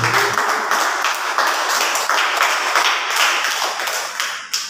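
Church congregation at a fasting prayer service clapping hard and fast, a dense, loud stream of sharp claps that carries on steadily for several seconds with no voices over it.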